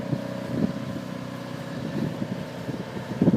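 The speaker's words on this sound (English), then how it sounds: "I could just hear the diesel engine running." An Onan DJB 6.0 diesel generator runs steadily in the distance, a low droning hum with some wind buffeting and a few soft bumps nearby.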